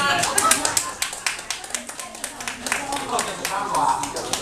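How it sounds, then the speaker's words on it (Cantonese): A small audience at a Father's Day party in an elderly care home claps in a loose, sparse patter of individual hand claps, with voices talking over it. "俾啲掌聲嘅啊"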